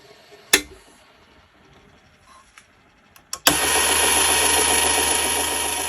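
A few light clicks and knocks come first, then a Flex Coat variable speed DC motor switches on with a sudden jump to a steady, loud, buzzing whine with a faint rattle, running on close up without a break.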